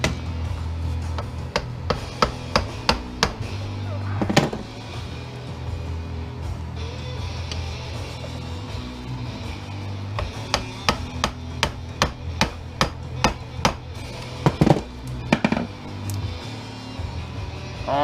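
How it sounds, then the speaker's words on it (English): A hammer strikes an HP Deskjet 950c printer being taken apart for scrap, giving sharp, irregular knocks and clusters of quick blows over a low background rumble, close and moderately loud. "I can get in there with a hammer in there again."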